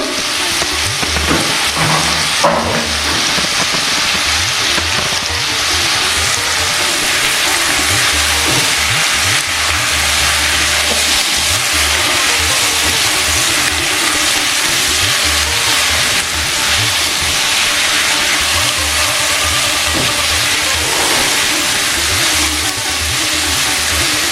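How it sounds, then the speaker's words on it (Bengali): Jackfruit and paneer frying in a pan of oil with turmeric, a dense steady sizzle with faint stirring and scraping noises throughout, loud and close, without speech. "পাঁচ মিনিট মতো লাগবে এটা সামান্য একটু ভেজে নিতে।"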